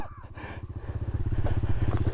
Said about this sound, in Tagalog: Wait lang, patayin ko yung motor.